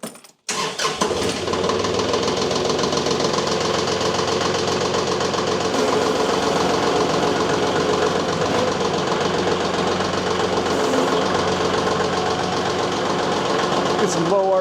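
A diesel tractor engine cranks and catches, then runs at a steady, loud idle with a rough mechanical knock throughout.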